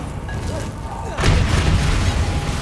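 Bombarda explosion spell in the video game Hogwarts Legacy: a single heavy boom bursts in just past the midpoint and rolls on with rumbling debris, following a brief quieter stretch of whooshing spell effects.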